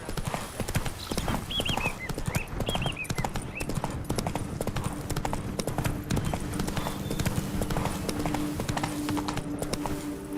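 Roach, a horse in The Witcher 3, gallops with fast, rhythmic hoof clip-clops on the ground, loud and close, with a couple of brief bird-like chirps in the background.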